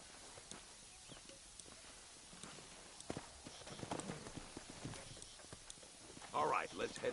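Horse hooves clip-clop in the Red Dead Redemption video game, faint repeated steps under a man's speech, with a louder burst of sound near the end.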